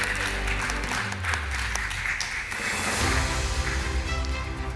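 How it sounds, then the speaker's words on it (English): Audience applause for a panel at an investors dialogue, a steady dense wash of clapping from a crowd with some low rumble beneath, sustained throughout. "Let's give them a big round of applause"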